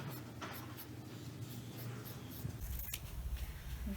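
Scissors trim a horse's long tail, giving soft, rhythmic snipping and crisp cutting sounds, close and quiet, repeating in a steady series with no talking.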